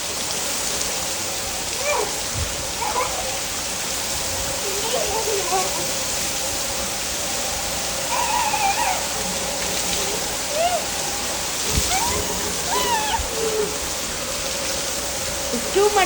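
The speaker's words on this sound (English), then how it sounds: "It's too much raining." Heavy rain pours down in a steady, dense hiss, close and loud throughout, with occasional thumps and children's voices faintly under the downpour.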